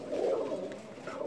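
Pigeons on a farm keeping Shahjahan Puri and Giribaj breeds coo nearby, a soft low rolling coo with a second call starting at the end.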